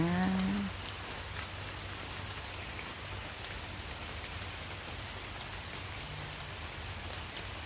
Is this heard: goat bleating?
no